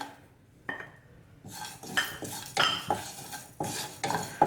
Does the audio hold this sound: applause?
no